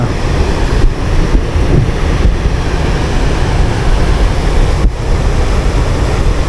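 Steady rushing water of Dunsulan Falls pouring without pause, a broad continuous roar with some wind buffeting the microphone, close and loud throughout with no voices.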